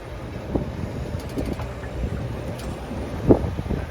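Steady wind rushing across an open microphone outdoors at sea aboard a sailboat, gusting to 16, with a few stronger gusts buffeting and thumping low, one louder gust near the end.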